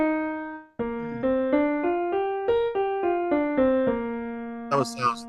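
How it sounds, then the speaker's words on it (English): Major pentatonic scale on piano: after a held note, around ten evenly spaced notes climb steadily and ring clearly, and a short spoken voice follows at the end. "This is the major pentatonic scale."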